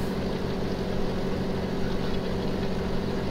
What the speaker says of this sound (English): use this tractor for this job